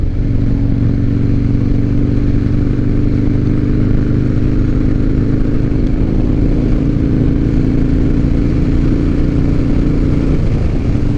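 A 2007 Harley-Davidson Night Train motorcycle runs at a steady cruise, a loud, continuous low engine drone and rumble filling the whole stretch with no speech.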